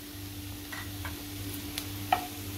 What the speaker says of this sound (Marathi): तेलावरती परतून घेते चांगली।